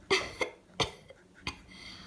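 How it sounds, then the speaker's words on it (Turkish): Three or four short, dry coughs spaced about half a second apart, close and moderately loud, with quiet pauses between them. "Evet öksürüyorum ara sıra."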